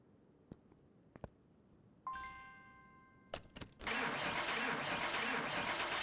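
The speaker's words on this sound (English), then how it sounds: "That engine, that exhaust sounds awful." Car engine and exhaust in Car Mechanic Simulator 2021, a chime sounding before the engine cranks and catches into a loud, rough, steady roar that fills the rest of the clip.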